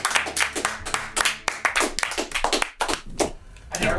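Several people clap together in a dense, uneven patter of hand claps, close and fairly loud, continuing throughout.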